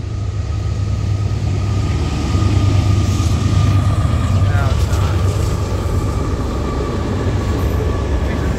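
Norfolk Southern freight train NS12Z rolling past with the Savannah and Atlanta, a loud continuous rumble of wheels and wagons that holds steady, with faint squeals rising over the roar.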